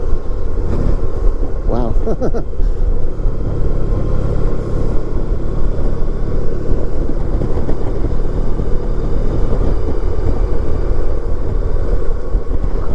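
A 1994 Honda ST1100 Pan European motorcycle engine rumbles loudly and steadily while riding, with the throttle rolled on, under heavy wind noise; a rider gives a brief exclamation.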